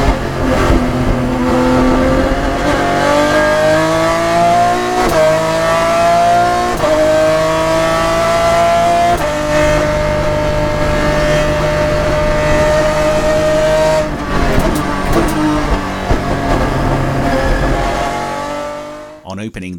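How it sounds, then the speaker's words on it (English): A race car drives fast around a circuit through the S's, the pit straight, Redgate and the Craner curves. The engine roars loud and close throughout, rising and falling with each gear change, and a narrator talks over it. "Julian seemed to have gained in confidence, clearly carrying more speed through the S's, down the pit straight, around Redgate, and into the exhilarating Craner curves"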